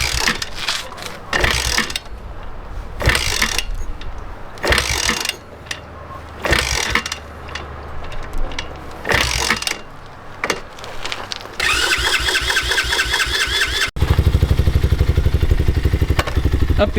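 A new 2022 150cc motocross bike fires up on its electric starter after several rhythmic bursts of cranking and mechanical clatter, then settles into a loud, steady engine run at close range.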